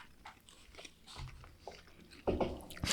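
Crunchy potatoes in a dumpling soup being bitten and chewed up close, a few soft crunches and mouth sounds followed by two louder, sharper crunching bites near the end.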